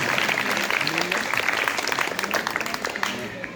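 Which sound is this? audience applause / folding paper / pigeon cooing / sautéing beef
audience applause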